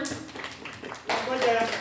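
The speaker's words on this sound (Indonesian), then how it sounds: "Tepuk tangannya mana?" Audience applause at a semi-final school quiz competition held by a community health center, a burst of clapping swelling loudly after a brief stretch of talk and continuing to the end.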